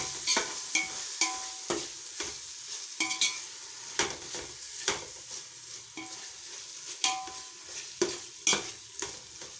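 Ginger paste, about 100 grams, is sautéed in a pan for a one-kilogram chicken biryani, with a soft sizzle under rhythmic, fairly close spoon strokes scraping and knocking against the pan.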